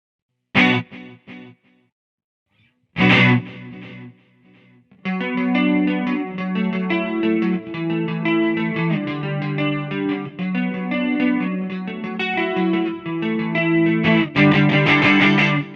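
Electric guitar chords through a Boss GT-100 stereo delay ring out with a repeating delayed echo trailing each note, the left delay lower-pitched; a short stab, pause, then sustained strummed chords swelling at the end.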